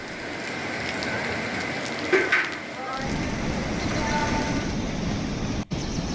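Heavy monsoon rain in Medak district, Telangana, hisses steadily on a surface, a dense and continuous close wash of noise that grows rougher and louder partway through.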